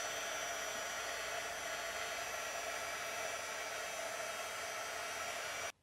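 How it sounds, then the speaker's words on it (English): A heat gun blows hot air steadily onto paper, a loud continuous broadband whoosh that holds evenly for nearly six seconds before cutting off abruptly at the end. "If we just add heat, like this heat gun"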